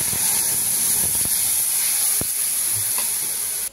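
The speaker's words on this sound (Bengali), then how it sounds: "আর এই বেটে রাখা সর্ষেটাকে যে জল দিয়ে গুলে আমি ঢেলে দিচ্ছি ঝোলে" Water-thinned ground mustard paste poured into a hot fish curry with kalo jeera tempering, giving a steady loud sizzle and hiss throughout with a few brief stirring clatters, ending abruptly.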